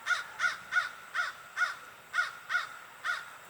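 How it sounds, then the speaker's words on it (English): Two crows caw outdoors in a steady series of about nine harsh calls, evenly spaced at moderate distance, with no talking over them. "Oh, you see the birdie? It's a crow."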